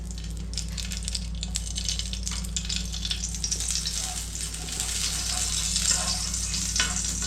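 Ghee sizzling steadily in a pan on a gas flame turned very low, a continuous bright crackling hiss over a low burner hum, close and even throughout.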